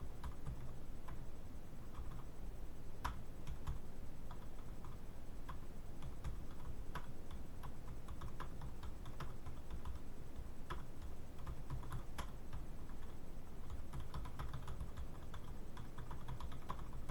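Someone types on a computer keyboard while working through a written business tax task, irregular clicks and clatters of keys at close range over a low background hum, with no talk.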